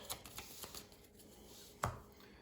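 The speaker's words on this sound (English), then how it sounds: "You have to shuffle the discard pile quite a bit." Playing cards from a discard pile being shuffled during a tabletop game of Dead Man's Draw, a soft papery riffle and shuffle with one sharper snap near the end, close and fairly quiet.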